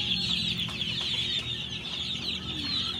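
Gamefowl roosters and broodcocks, including LDT grays, clucking in a dense, continuous chorus at a farm, close and fairly loud with no talking.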